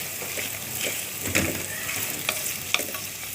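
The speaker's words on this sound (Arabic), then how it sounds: "نقلب البصله" Onions frying in a pot for Egyptian koshari, stirred with a spoon: a constant sizzle close by with several sharp scraping clinks against the pot.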